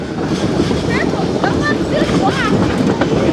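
West Side Lumber Shay #9, a geared steam logging locomotive on the Georgetown Loop Railroad, rumbles along with a constant loud rolling din, clanking wheels and squealing rail flange noise as it rounds a curve, with a voice talking over it.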